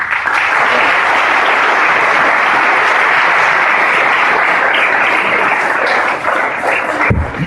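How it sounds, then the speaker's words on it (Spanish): A congregation at a Catholic church gathering breaks into loud, sustained applause that keeps going steadily for several seconds before tapering off near the end. "Démosle un fuerte aplauso a Dios."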